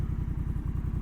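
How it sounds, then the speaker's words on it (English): A 2022 Honda Rebel 1100 motorcycle fitted with a Coffman's Thunder Exhaust idles close up, a loud deep rhythmic throb with evenly spaced pulses. "Coffman's Thunder Exhaust 2022 Honda Rebel 1100."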